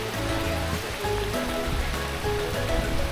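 Heavy rain pours steadily in Ubud, Bali, a dense, continuous hiss of drops striking surfaces close by, unbroken for the whole stretch with no voices.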